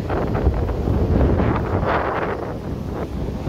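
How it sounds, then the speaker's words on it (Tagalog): Strong wind at a beach roars and buffets against the microphone, a loud continuous gusting rumble with no talking. "Malakas ang hangin."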